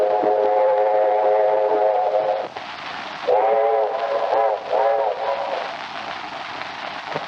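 A steam train whistle in a 1932 railroad film sounds in long, loud blasts, one sustained and then several shorter rising calls, over continuous rumbling and clatter of a passing train, with no talk.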